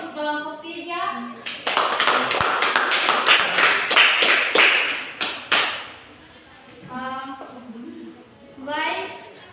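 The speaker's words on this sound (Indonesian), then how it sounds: "berikan aplaus untuk kelompok 3" A classroom group claps for a group presentation in a biology lesson, a burst of several seconds of scattered hand claps, with speech just before and after.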